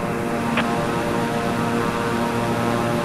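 Steady, close propeller engine drone of a Beechcraft single-engine plane climbing in Microsoft Flight Simulator 2020, a continuous even hum with a faint brief click near the start.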